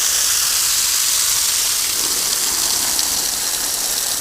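Steady broadband hiss of water spraying from a hose, constant and close, with no voices.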